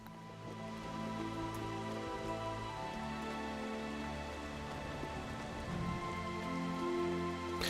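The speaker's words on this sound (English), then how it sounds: "Hey, it's raining." Steady rain falls in the Final Fantasy XIV Shadowbringers game world, a continuous even patter held at constant loudness under layered music-like tones, with no talking.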